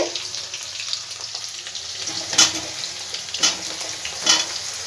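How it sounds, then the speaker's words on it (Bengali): Potatoes being stirred and fried in a pan for a mixed vegetable curry, a soft continuous sizzle with occasional spoon scrapes and clinks, moderately close. "আলুটাকে একটু নাড়াচাড়া করে দেবো এবার বেগুনটা আমি দিয়ে দেবো এর মধ্যে"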